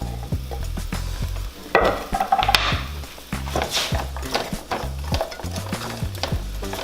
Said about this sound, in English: So I'm heating up a pan with some oil. This is avocado oil. I'm adding 1 yellow onion and 1 green pepper.